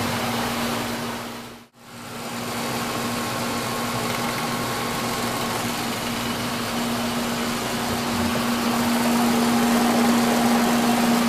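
A machine runs steadily while a flat face is cut across a pair of metal boat forks in a workshop. It gives a loud, even motor drone with a brief dropout early on, and there is no talk.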